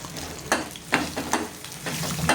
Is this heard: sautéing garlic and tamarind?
yes